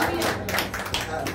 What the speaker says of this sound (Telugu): నన్ను గట్టిగా చప్పట్లు కట్టి యేసు నామాన్ని మహిమపడతాం